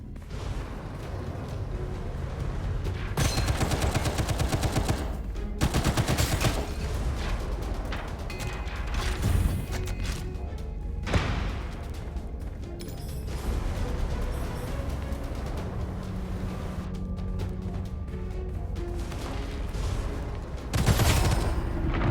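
Assault rifle fire in the shooter game Gunfire Reborn: rapid, loud bursts of automatic shots with heavy booming impacts, some stretches sustained and others short, over faint background game sounds.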